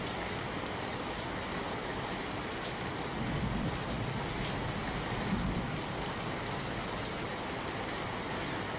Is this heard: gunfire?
no